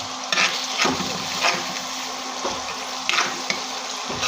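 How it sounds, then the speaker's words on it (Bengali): Onions fry lightly in a pan with turmeric, chili, salt and coriander powder, a steady close sizzle with occasional soft stirring scrapes and no speech. "হলুদ, মরিচ, লবণ আর ধনিয়ার গুঁড়া দিয়ে পেঁয়াজটা ভেজে নিব হালকা"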